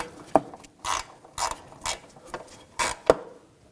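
Socket wrench with a 10mm socket ratcheting a nut off a level sensor on a 2007-2013 BMW X5 front suspension, a series of short clicking and scraping bursts at a steady, close rhythm.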